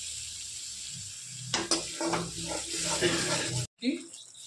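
Onion and garlic paste sizzles in a pan for pav bhaji, a steady frying hiss broken by stirring clatter and scraping, with a voice talking over it and a short gap near the end.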